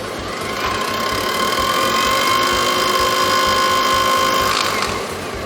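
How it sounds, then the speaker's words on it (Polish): A HiKOKI three-function hammer drill whirs steadily and loudly on a slow, precise start, its motor tone holding a high whine throughout, with a slight change in pitch partway through. "zademonstruję pracę precyzyjną, bez konieczności punktowania, wolny start i bardzo precyzyjne rozpędzanie się wiertła"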